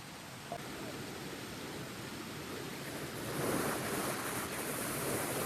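Steady broadband roar of rushing water from a hidden waterfall, constant and fairly loud, growing slightly fuller partway through, with no voices.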